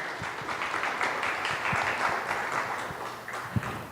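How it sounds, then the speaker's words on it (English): A conference audience applauds the event organizers and volunteers, steady dense clapping from a roomful of people, heard from mid-distance at moderate loudness with no talk. "if we could all give a round of applause for the organizers and volunteers running this event"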